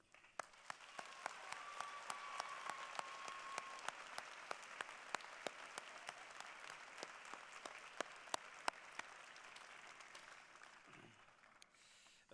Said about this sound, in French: Pour les remercier, applaudissons-les.